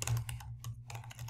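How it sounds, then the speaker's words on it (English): Rapid clicking of keys on a computer keyboard, a quick irregular patter of close, soft taps with brief pauses. "I'm typing really fast"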